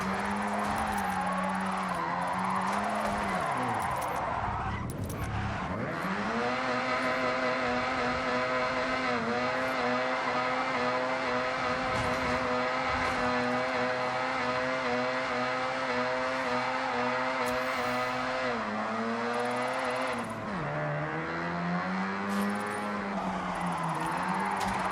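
Forza Horizon car under sustained hard driving, its engine droning loud and near for the whole stretch, with revs sagging and climbing again at two points as it slides.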